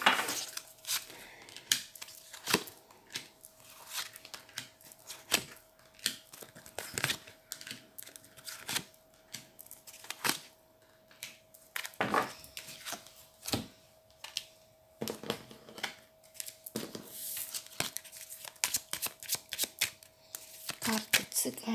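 Gypsy fortune-telling cards being shuffled, a run of crisp riffling bursts and soft slaps repeating irregularly, close and fairly quiet, with a faint steady tone behind.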